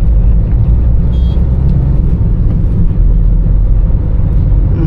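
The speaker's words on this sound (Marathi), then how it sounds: "Innova Crysta" A Toyota Innova Crysta travels along a road on a road trip to Alibaug, giving a loud, steady low engine and road rumble heard up close and unbroken throughout.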